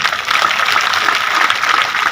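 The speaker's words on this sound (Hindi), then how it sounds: "मैं देख रहा हूं कि महिलाएं ताली बजा रही हैं" Women in the audience clapping at an outdoor political rally, a dense, steady burst of applause from a crowd lasting a couple of seconds with no speech over it.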